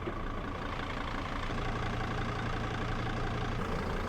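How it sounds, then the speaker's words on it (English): A diesel engine idles steadily, a continuous low rumbling clatter that stays close and even throughout, with no talking. "Nice diesel engine"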